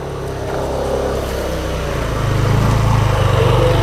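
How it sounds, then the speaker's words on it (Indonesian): A motorcycle passes on a hillside road, its low engine drone building and growing louder toward the end over a constant rumble. "Motor juga lewat."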